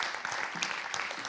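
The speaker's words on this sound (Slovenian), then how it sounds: "malo aplavza, prosim" Brief burst of audience applause in a cinema hall, steady clapping from a moderate crowd greeting the director of the Slovenian film Posledice on stage.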